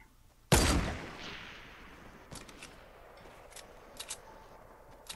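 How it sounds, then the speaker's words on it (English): A single loud gunshot in Fortnite Battle Royale cracks and then decays, followed by a few fainter, distant shots at irregular intervals. "I'm getting shot at."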